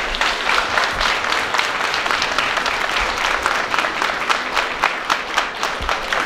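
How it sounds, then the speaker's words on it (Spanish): Dense, sustained applause from a crowd at a village saint's festival for San Antonio de Padua in Ciudad del Maíz, San Luis Potosí, a steady roar of many hands clapping at once, loud and close throughout. "Vamos a darnos un aplauso fuerte al ser de este pueblo."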